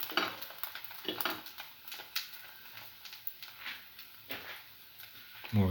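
A soy chunk tomato French toast sandwich dipped in egg fries in a pan, a faint soft sizzle with intermittent scraping and shuffling as it is moved around, ending in a louder knock.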